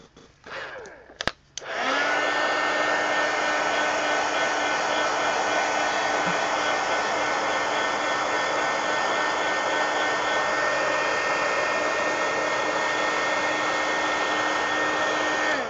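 A hair dryer drying paint in an art journal starts after a couple of soft handling clicks, then blows steadily and loudly with a constant whining hum for the rest of the clip, alone without talk.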